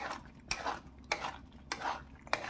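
Chicken do pyaza gravy with cashews is stirred in a pan, giving four sharp spoon-on-metal scrapes at a steady rhythm over a soft background, close and fairly quiet.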